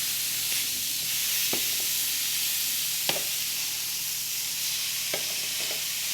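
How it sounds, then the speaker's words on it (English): Steaks sear in a hot pan with a steady, close bright sizzle and hiss, broken by a few sharp pops and spatters, with no talking. "I have been letting these pan sear for about 5 minutes or so."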